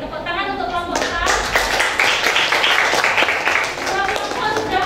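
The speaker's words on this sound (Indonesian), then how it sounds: "Oke, tepuk tangan untuk kelompok 4." A classroom of students claps for a presenting group, a lively patter of many hands close by, with voices mixed in, especially near the start.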